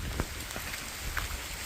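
The first monsoon rain falls in a village, a soft, faint, steady patter of drops on surfaces with a few slightly louder taps and no talking.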